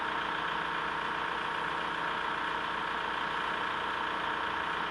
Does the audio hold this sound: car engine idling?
yes